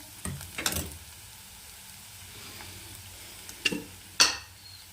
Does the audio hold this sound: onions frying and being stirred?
yes